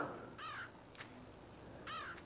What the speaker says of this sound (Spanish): A ver, hay un cuervo.